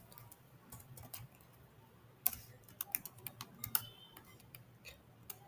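Typing a website address on a computer keyboard, heard as quiet, irregular clicking keystrokes with a few sharper taps clustered in the middle, close by and alone over a low background hum.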